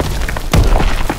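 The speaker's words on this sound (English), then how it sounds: "That's a grenade." A grenade explosion in Call of Duty: WWII gives a single sudden thump with a short crackling burst, loud and close, cutting across quieter game background noise.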